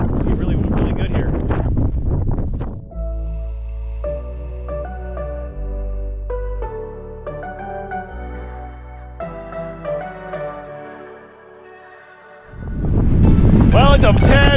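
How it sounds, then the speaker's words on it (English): Strong wind roars and buffets the microphone on a breezy coastal point in Maui near a lighthouse, loud and gusty at the start and again at the end, with music playing in between. "it's a tad breezy on the point today"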